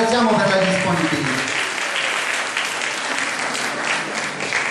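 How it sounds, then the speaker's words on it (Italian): A theatre audience breaks into loud, dense applause that continues steadily, with a voice heard briefly at the start as the clapping builds. "quindi lo salutiamo con un applauso"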